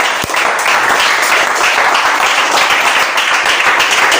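A church congregation applauds and cheers for Jesus in a dense, steady wash of clapping that holds loud and unbroken from start to finish.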